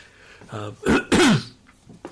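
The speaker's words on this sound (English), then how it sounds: "I apologise for the coughing" A person coughs and clears their throat a few times in quick, harsh bursts, close and fairly loud, with quieter breaths between.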